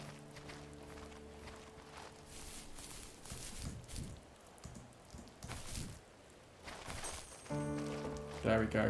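Footsteps rustling through grass in the video game The First Tree, a run of soft swishing steps at a steady pace, mixed with other game sounds that swell into a louder tonal passage near the end.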